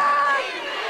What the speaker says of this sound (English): Now the LA crowd coming to life.